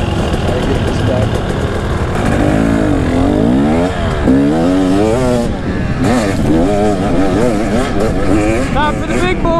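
A 2024 KTM 300 XC dirt bike engine revs hard and loud and close, its pitch sweeping up and down in repeated surges over a steady running drone.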